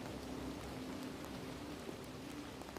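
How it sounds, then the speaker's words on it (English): Steady rain falls continuously, a soft, even hiss of drops with faint scattered patters, heard alone without any voices. "The rain continued without pause."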